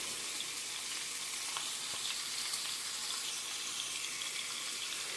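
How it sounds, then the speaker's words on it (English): Pot roast searing in a hot pan gives a steady, close sizzle and crackle that holds evenly throughout, with no voices. "So, searing it, it just holds the juices in a little better. But this is the sound you want to hear."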